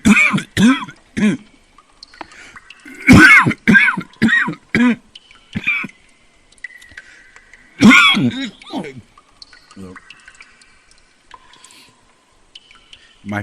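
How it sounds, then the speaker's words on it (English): A voice acts out a character's fit of coughing and throat clearing in a dramatic reading of an Edgar Allan Poe story, with repeated harsh bursts at close range and quiet gaps between them. "How long have you had that cough?"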